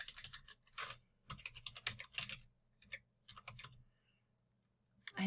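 Someone types an IP address on a computer keyboard while configuring a Cisco switch, sounding as close bursts of quick key clicks separated by short pauses, with a final louder tap.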